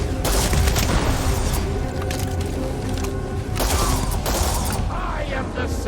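A heavy weapon fires during a boss fight in Starfield Shattered Space, a dense, loud barrage of booming shots and mechanical clatter running continuously under other game noise.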